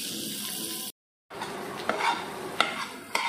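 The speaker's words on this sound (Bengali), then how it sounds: "ভালো করে নেড়ে চেড়ে ভালো করে এটাকে ভাজতে হবে" Vegetables for a pointed gourd dish are stirred and fried in a pan, giving a steady close sizzle with scraping spoon strokes and a few sharp clinks. A brief silent break interrupts it.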